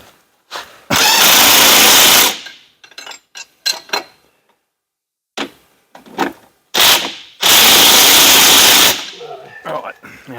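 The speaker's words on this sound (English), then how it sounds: "then we just got to retighten the bolts back up and then try it again" A power tool retightens suspension bolts on a coilover kit fitted to a car build, loud bursts of whirring and rattling separated by clanks of tools and short pauses.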